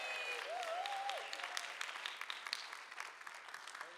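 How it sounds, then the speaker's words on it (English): Audience applause fills a community event hall as a district director is welcomed, a dense wash of clapping that stays even and gradually thins, with a faint voice calling out briefly near the start. "nice, loud round of applause"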